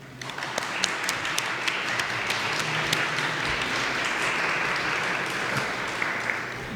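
An audience at a horror literature conference applauds steadily for several seconds, a dense wash of clapping with individual sharp claps standing out, continuous and fairly loud with no speech over it.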